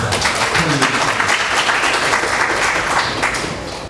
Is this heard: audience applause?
yes